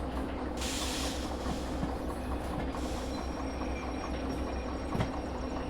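A freight train rolling on rails in the railway simulator Derail Valley, a steady, loud rumble with a continuous hiss and faint clacking of the wheels throughout.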